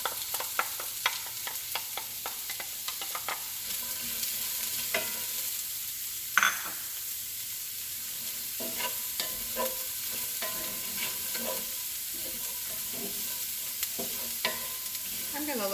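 Diced onion sautés in a tablespoon of oil in a pan while cooking creamy mushroom chicken, a soft continuous sizzle broken by occasional spoon scrapes and stirring clatter, close up with no talk.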